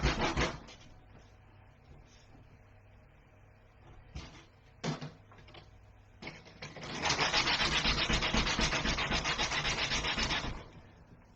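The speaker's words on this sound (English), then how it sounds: "I already feel like we're sanding in vain." Hand sanding of a prop makes scratchy rubbing strokes, with short sporadic passes early on, then a sustained, louder stretch of steady back-and-forth sanding close by.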